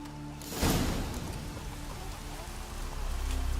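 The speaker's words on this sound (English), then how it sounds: "Raining buckets." Heavy downpour in the video game The Witcher 3: Wild Hunt, a steady dense hiss of rain swelling briefly near the start and holding on, with no talk over it.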